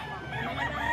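A rooster crows at a chicken seller's place in Calumpit, one drawn-out call lasting about a second, close and fairly loud, with other fowl clucking faintly around it.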